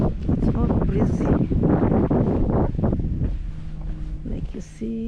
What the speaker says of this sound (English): It's all breezy.